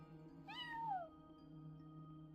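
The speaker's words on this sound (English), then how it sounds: "No one except for a cat watching over the front desk" A cat sitting at a front desk in Genshin Impact gives a single short, clear meow that falls in pitch over a steady low game-music bed.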